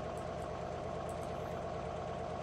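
Truck engine in a driving video game runs at a steady, even drone, a continuous low rumble with faint higher whine, moderately quiet and unbroken throughout.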